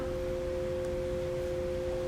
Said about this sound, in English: It sounds like a combination of sine tones.